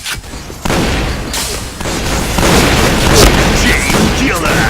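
A grenade blows up in the Point Blank shooter game during shotgun mode, a loud booming blast amid bursts of in-game gunfire, with a voice calling out a line just before.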